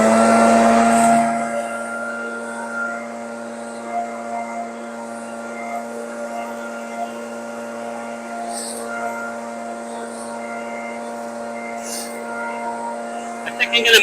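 A STIHL BR450 backpack leaf blower throttled up in a leaf-covered yard by a sandbox: its engine holds a loud, steady, humming drone after a brief louder onset, with a few faint bumps near the end.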